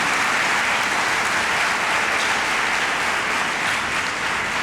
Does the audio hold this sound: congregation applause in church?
yes